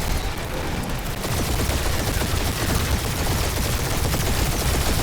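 Turret fire rattles in rapid, dense bursts during a spaceship dogfight in the video game Marvel's Guardians of the Galaxy. The loud, continuous volley grows heavier after the first second.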